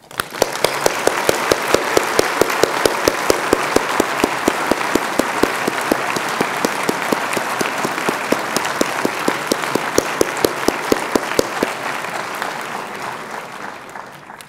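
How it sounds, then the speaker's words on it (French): An audience at a university honorary doctorate ceremony applauds a pianist, dense, loud clapping from a large crowd that holds steady for a long stretch before easing off at the end. "je vous propose de l'applaudir avec moi"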